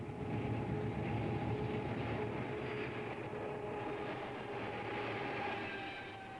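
Hamersley Iron ore train running on its railway from Mount Tom Price to the coast in Australia: steady, distant rumble of heavy wagons with faint wheel clatter, even and unbroken throughout.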